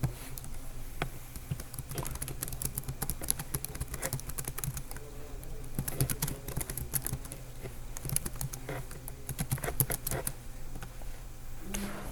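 Fast, steady typing on a computer keyboard clatters close by for about twelve seconds, with dense key clicks and occasional heavier strokes and no talking.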